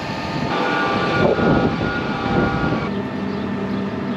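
A loud, steady tractor engine drone with a constant mechanical roar, running close by without pause.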